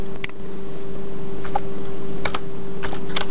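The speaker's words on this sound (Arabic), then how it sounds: "بعد كتابة كلمة السر هنا اكتب ما تشاهده في الصورة" Password entered on a computer keyboard: a handful of separate key clicks, sparse and uneven, over a steady electrical hum, with no one speaking.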